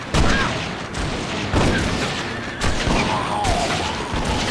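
Rifle fire in the video game Red Dead Revolver during a train mission: loud, heavy shots in a rough sequence of about four blasts roughly a second apart, each followed by a rolling boom over constant game noise.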